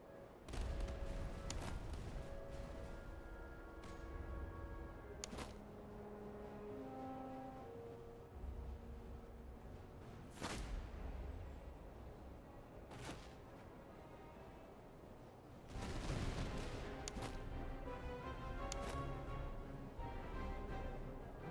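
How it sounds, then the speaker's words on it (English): Musket volleys aimed at grenadiers in the Napoleonic strategy game Master of Command, with repeated sharp crackling volleys spread across the battle, some bursts louder and nearer than others over steady background battle din. "Oh, they're shooting at our grenadiers."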